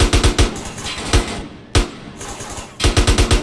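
Gunfire in GTA San Andreas, loud rapid bursts of automatic shots in quick clusters, with a single sharp shot in the middle and another fast volley at the end.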